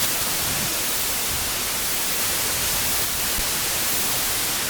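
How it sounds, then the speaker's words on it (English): Steady white noise generated with the 4klang synthesizer, a flat, unbroken static hiss spread evenly across the range, moderately loud and constant throughout with no voices. "So I'm adding white noise, which is always fun to hear."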